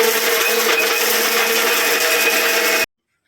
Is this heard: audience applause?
no